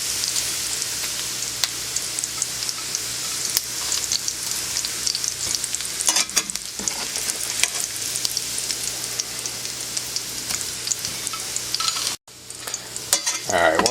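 Salt pork crackles and sizzles in its rendered fat in a pan for rappie pie, a constant close frying hiss with scattered pops and stirring scrapes, briefly cut off before it resumes.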